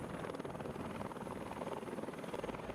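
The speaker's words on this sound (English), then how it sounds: "took in one last aerial view of the Arizona and its memorial with a helicopter tour around Pearl Harbor" Tour helicopter flying over Pearl Harbor, a continuous steady rotor thrum and engine roar heard from inside or close by, with no talk.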